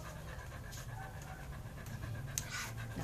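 A dog pants rapidly and rhythmically close by, a quiet, steady series of short breathy huffs with faint background noise and no talking.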